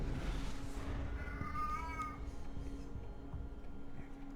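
A pet cat lets out a single faint, drawn-out meow in the background of a quiet room, partly masked by steady low hum and noise.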